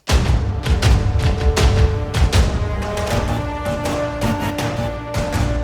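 A loud orchestral track with pounding percussion hits, sustained strings, horns and trumpets, and a gritty distorted synth layered underneath.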